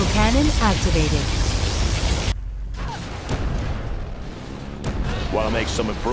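The particle cannon superweapon in C&C Generals fires as a loud, noisy roaring blast with rumbling booms, cutting out abruptly after a couple of seconds. Game unit voices talk before and after it.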